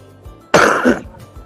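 One loud, harsh cough bursts out close by at an exhibition hall booth after a quiet moment, with faint background noise around it.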